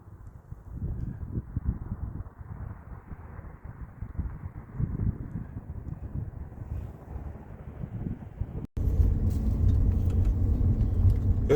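A bus passing through a road tunnel in Zion National Park, Utah: a low, rumbling engine drone that builds for several seconds, then turns abruptly into a louder, closer roar with wind buffeting the microphone.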